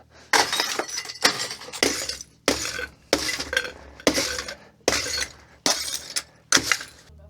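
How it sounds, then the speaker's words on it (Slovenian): Glass bottles smashed one after another in a mountain hut, about eight sharp shattering crashes in a regular rhythm, each with a brief tinkling tail, close and loud. "kar trenutno delam, je razbijanje steklenic"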